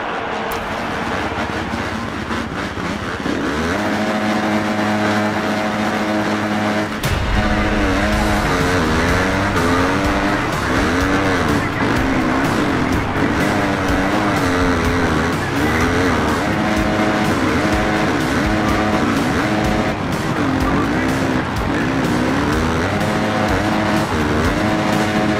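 Supercross motorbike engines revving in the Monster Energy Supercross video game at race start, a loud continuous blend of several whining engines that surge together after a few seconds and hold steady with pitch shifts.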